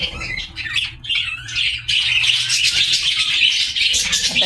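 Baby lovebirds in a home aviary squawk continuously at close range, with harsh overlapping chirps and calls forming a dense, steady chorus.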